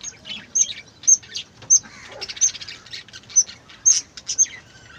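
Newly hatched chicks just out of the brood nest chirp in a busy chorus, with repeated high, sharp peeps scattered close together and overlapping, fairly near and steady with no talking.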